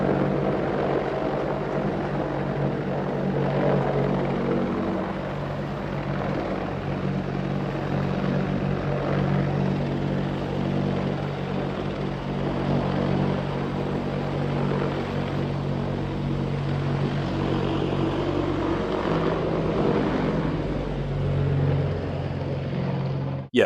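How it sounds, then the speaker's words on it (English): A military helicopter flies over the National Mall, its deep rotor throb and engine drone loud and continuous throughout before cutting off abruptly at the end. "a military helicopter did a flyby"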